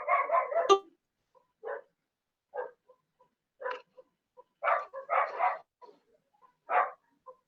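A dog barks repeatedly inside a home during an online class, with a quick cluster of yaps at the start followed by single and paired barks at uneven intervals, moderately close and not masked by any talk.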